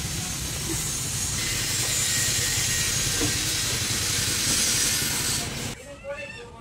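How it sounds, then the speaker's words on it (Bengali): Oil heating in a hot kadai gives a loud, steady hiss for several seconds, then cuts off abruptly near the end, leaving quieter clatter. "আর এদিকে কড়াই গরম হয়ে গেছে, এবার তেল দিয়ে দেব"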